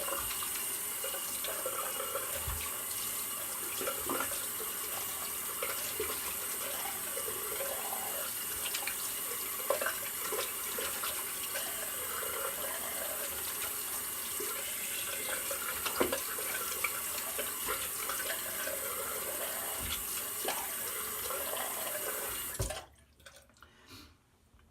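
Water streams steadily from a tap, rinsing thick soap off, a continuous close splashing rush with scattered drips that cuts off abruptly near the end.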